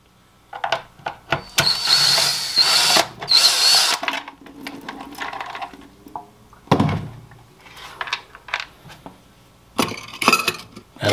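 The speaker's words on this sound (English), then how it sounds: "I'm gonna use my handy dandy drill" A power drill whirs in several short bursts, spinning up and stopping, removing screws from a Fluval FX6 aquarium filter, with clinks and clatter of screws and parts between runs, close by.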